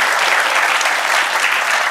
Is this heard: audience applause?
yes